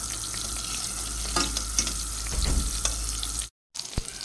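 Chicken balls fry in a pan with a steady, fairly loud sizzle and crackle lasting about three and a half seconds, then a short silent break before the sizzling picks up again, with no talking.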